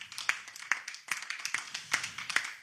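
Church congregation clapping to acclaim the Lord, a run of sharp, fairly quick handclaps in a loose irregular rhythm, several hands together, close and moderately loud.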